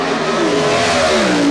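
Jerry Haas's brand-new Mercury Cougar Pro Stock drag car with a carbon fiber body roars loudly at Maple Grove Raceway during Keystone Nationals 2000 qualifying, its engine note a sustained close blare that climbs in pitch.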